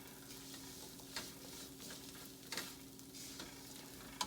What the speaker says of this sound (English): So let's toss the coconut a little bit.